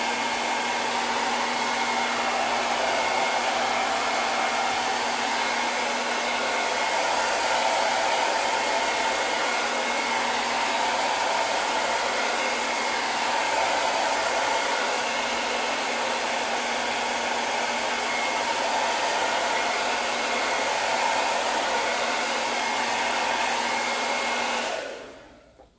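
A hair dryer blows on a watercolor painting on canvas, a loud steady close whirring roar that runs for about 25 seconds before switching off abruptly.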